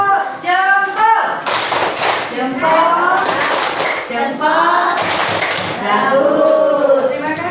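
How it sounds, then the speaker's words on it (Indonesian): Sixth-grade schoolchildren in a classroom perform the thumbs-up clap, a chanted clapping routine, with rhythmic bursts of claps mixed with their loud group singing voices throughout. "Kasih tepuk jempol."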